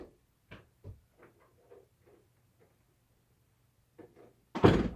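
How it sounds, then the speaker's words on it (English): A bathroom door swings shut with a loud, close thud at the end, after a few faint knocks and small household sounds in an otherwise quiet room. "But I'm going to close this bathroom door so I don't have to hear it."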